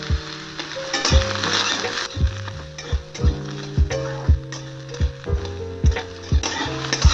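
Eggplant and flat beans frying in a pan sizzle steadily up close, broken by a regular series of knocking spatula strokes against the pan, roughly one each half second, with no talking.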